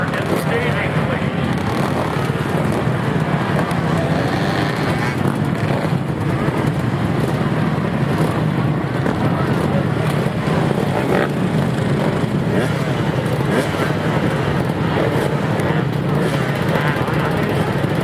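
Two-stroke motocross bikes race on a track during an FMF 2-stroke class moto, a dense continuous engine drone from several machines, with an announcer talking over it.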